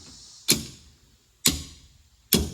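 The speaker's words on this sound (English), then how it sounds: "Tap the bearing race again" A wrench taps a bearing race during a Trek mountain bike rebuild: three sharp metallic knocks about a second apart, each ringing briefly, close and alone.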